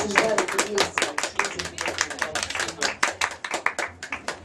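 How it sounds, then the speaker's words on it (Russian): Audience applause at a live event, a fast dense patter of many hands clapping steadily for several seconds, fairly close and loud, with a few voices mixed into the clapping. "Ну, поддержим, наверное, аплодисменты."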